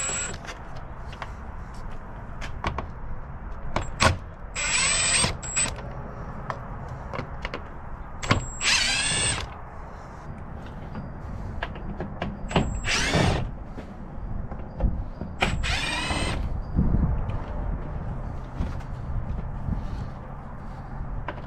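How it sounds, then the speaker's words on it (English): An impact driver fitted with a 3/8 drive adapter and 10mm socket loosening bolts during an air filter change on a Ram, sounding in several short, loud whirring bursts separated by quiet pauses. "A 3/8 drive adapter and an impact driver."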